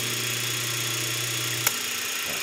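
An old Delta repulsion induction electric motor runs with a steady, close hum and a brief click partway through, continuous throughout.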